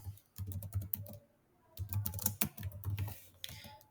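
Python code being typed on a computer keyboard: two quick bursts of close, crisp key clicks separated by a short pause, with no talking.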